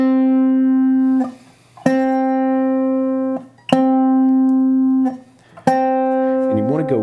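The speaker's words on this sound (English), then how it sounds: "Then play it, so fretted, and then play it with the slide." A single guitar note rings out several times, alternately fretted and played with a slide, each clear sustained tone separated by brief gaps, the last one wavering with slide vibrato.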